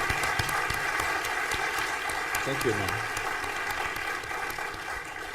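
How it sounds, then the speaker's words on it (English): A room of people at a Zeiss camera presentation applauds in a steady, dense wash of clapping, with a man's brief spoken thanks over it and a low hum underneath. "Let's give a round of applause to Adrian for being wonderful and sharing so much."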